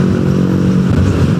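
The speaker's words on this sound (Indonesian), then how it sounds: "dari geberan Yamaha." Yamaha 225 cc motorcycle engine revving steadily at high speed on the road, a loud continuous drone with strong low harmonics and a slight clatter, no voices.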